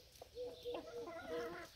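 Chickens clucking in a coop, a series of short rhythmic clucks close by, fairly quiet, with no speech over them.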